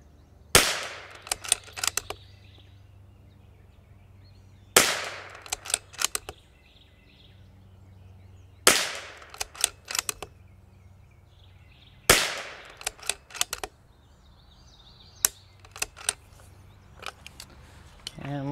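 Four loud Bergara B14R Heavy rifle shots ring out at a shooting range, evenly spaced about every four seconds, each sharp crack followed by a short clatter of echoes and handling noise.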